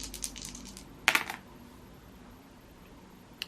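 Dice rattle and clatter onto a surface in a brief cluster of sharp clicks, with a faint tap at the start and another shortly after, in a quiet room with no talking.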